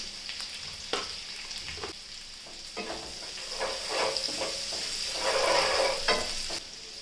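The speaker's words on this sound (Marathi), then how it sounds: "कांदा चांगला परतून घ्यायचा" Chopped onion with salt sautéing in a pan, a continuous close sizzle with repeated spatula scrapes and taps across the whole stretch.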